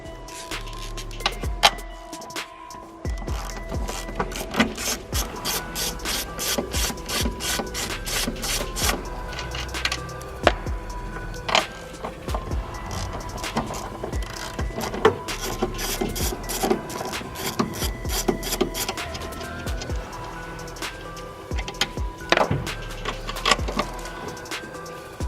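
Hand tools work on a Toyota JZX100's car shock absorbers: a long run of quick, sharp ratcheting clicks and metallic taps, fairly close and moderately quiet, with brief pauses and no talk.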